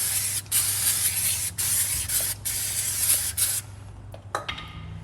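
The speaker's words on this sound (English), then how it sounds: "we'll just give it another squirt off just to get rid of my dirty fingerprints" Brake cleaner sprays onto front brake parts of a Ford Ranger, loud close hissing bursts from an aerosol can, several short squirts in a row before tapering into faint clicks and quieter rustling.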